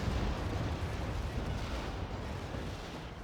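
Steady, dense gunfire from Grenadier units in the real-time strategy game Act of Aggression, a continuous rumbling barrage of overlapping shots and booms with no pauses.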